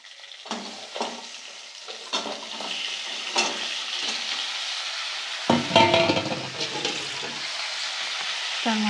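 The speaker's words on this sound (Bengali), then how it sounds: "কড়াইয়ের মধ্যে আমি ওই কাঁকড়াটাকে দিয়ে দেবো, দিয়ে একইভাবে ওটাকেও ভেজে নেব আমি।" Crab pieces frying in hot oil in a kadai, loud close sizzling with repeated stirring scrapes and a sudden surge of spitting when more goes into the pan.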